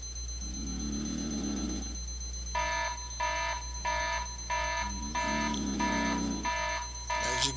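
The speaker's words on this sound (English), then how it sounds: "is where the alarm is going to go off." An iPhone alarm going off beside a sleeper with a watch nearby, sounding as repeated bursts of bright stacked-tone beeps in a steady on-off rhythm over a constant low hum, with a couple of low snoring rumbles between sets.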